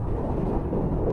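Roar of a JF-17 Thunder fighter jet during an air display, a loud, dense, broadband rumble heard alone at close range.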